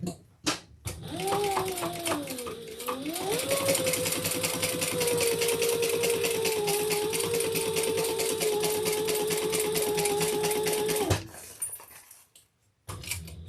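A sewing machine runs steadily, basting crossbody handbag pieces in place, its rapid needle clatter starting after a brief pause and stopping abruptly near the end, with a whining motor tone throughout.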